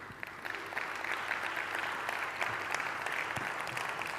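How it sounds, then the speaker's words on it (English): An audience at a TV festival keynote gives a round of applause, a steady wash of clapping from many hands that holds at an even level throughout. "a little bit of a round of applause for him"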